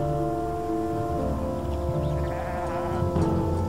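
A flock of sheep bleating together on a path, several overlapping loud calls close by over a continuous bed of lower bleats, with no talking.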